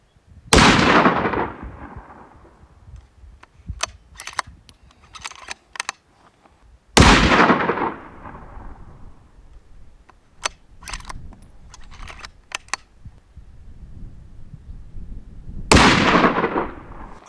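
Rifle fired prone from a bipod outdoors, three loud sharp shots spaced several seconds apart, each with a long decaying echo, with quieter handling clicks and rattles between shots.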